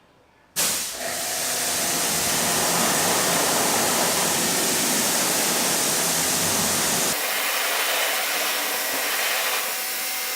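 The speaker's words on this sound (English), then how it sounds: "I'm gonna rinse it down" A pressure washer sprays car wheels during a wash, a sudden loud hissing jet that starts abruptly and holds steady, shifting in tone partway through as the spray moves, close and alone.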